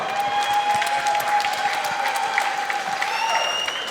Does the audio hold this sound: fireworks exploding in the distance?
no